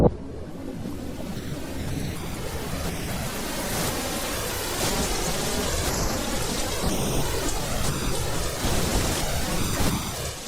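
Steady heavy cyclone rain pouring down in far north Queensland with rumbles of thunder rolling underneath, a constant dense wash of sound throughout.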